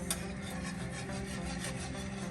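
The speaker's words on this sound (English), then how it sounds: "And then we're gonna whisk until combined and smooth." Blackened seafood pasta sauce ingredients whisked together in a bowl, a steady close scraping and rubbing rasp that continues evenly with no talking.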